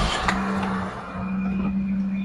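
A Toyota Corolla Altis ninth-generation engine runs at a steady elevated idle just after starting, a constant close drone with a sustained hum and no talking.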